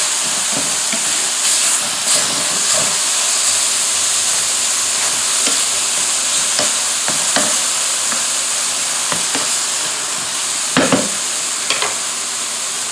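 Stir-fry vegetables sizzle and scorch in a hot pan, a steady loud hiss broken by repeated scraping stir strokes and brief louder bursts, with no talking.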